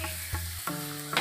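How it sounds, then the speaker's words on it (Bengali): A brief burst of papad sizzling in hot oil, close-up bubbling hiss with a couple of scraping stirs. "খিচুড়ির সঙ্গে বর্ষার দিনে পাঁপড় ভাজা"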